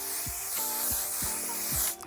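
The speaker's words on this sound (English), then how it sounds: "she did use the One Size On Till Dawn spray" One Size On Till Dawn setting spray is pumped onto a face in several quick spritzes, each a short hissing puff spaced about half a second apart, close and clear.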